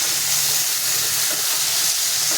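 Water hitting hot oil in a cooking pan for a masala, an instant loud, dense steam hiss that roars steadily through the whole moment, close and with no talking.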